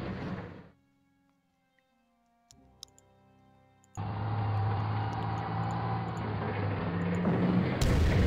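Artillery fire in the WWII strategy game Panzer Corps: a burst of noise, a quiet pause with faint ticks, then a sharp hit followed by a loud, sustained rumbling roar that swells toward the end.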